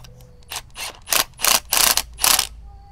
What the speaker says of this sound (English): And just tighten the bolt to clamp it down.